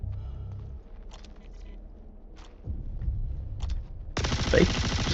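Rapid bursts of Space AK rifle fire in a sci-fi shooter game rattle over game ambience, a sustained loud volley closing the stretch.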